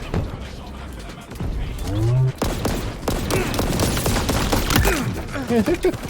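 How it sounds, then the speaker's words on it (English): Pistol fire in the shooter game Halo Infinite: rapid cracking shots in quick bursts amid a busy, loud mix of game sounds, with a person talking over the action. "I just unloaded the pistol into him."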